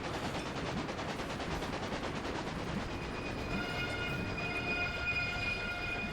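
A train rolls along the tracks in the railway-building game Railway Empire, with a fast rhythmic clatter of wheels over rail joints, joined in the second half by sustained high squealing tones, loud and close throughout.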